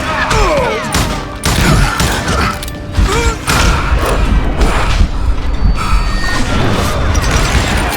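Bursts of gunfire in the Wild West shooter Call of Juarez Gunslinger: loud, sharp shots and crashes scattered across the stretch, mixed with mechanical clatter and game effects.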